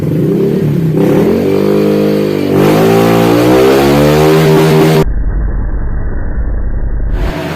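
A Honda Vario 150 scooter engine revs hard at full throttle during an unloaded top-speed run. The loud, close whine climbs steadily in pitch, then settles into a sustained high drone.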